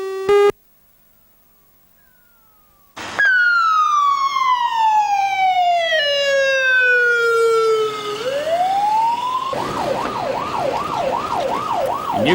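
Electronic siren wails loud and close: a long descending tone sweep, a brief rise, then a rapid warbling yelp, after a short beep and a silent gap, with no voices.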